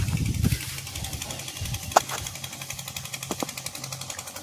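A tube well borewell drilling machine runs at a house construction site, a steady mechanical hammering and engine drone with rhythmic pulses throughout, fairly close and continuous.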